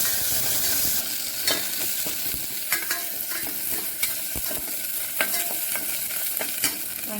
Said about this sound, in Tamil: வெங்காயம் கருவேப்பிலை ஒரு பல் பூண்டு இதெல்லாம் போட்டு நல்லா வதக்கிக்கலாங்க